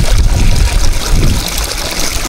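Water gushes loudly into a 16-liter knapsack sprayer, a close, continuous rushing and gurgling pour that runs steadily before cutting off abruptly at the end, with no talk over it.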